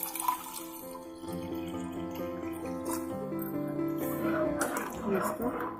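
Water poured into thinned kadhi batter in a pot for pakoda kadhi, a splashing, gurgling pour that builds louder toward the end while a voice talks over it.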